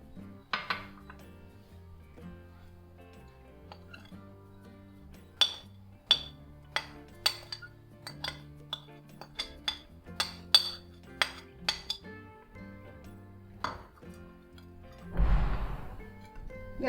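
Chili powder, asafoetida and salt being mixed in a bowl for a Kerala spicy mixture, heard as sparse clinks and taps of a spoon against the bowl, irregular and close, with a brief rustle near the end.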